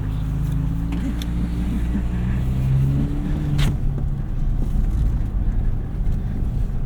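A 2025 Toyota 4Runner TRD Pro at full throttle off-road, a loud, steady low engine drone with rising and falling tones, wind rushing over it.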